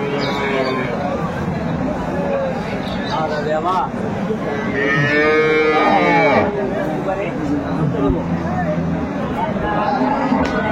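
Cattle at a busy livestock market where dairy cows and calves are sold moo in several long, loud calls close by, over constant crowd chatter and people talking.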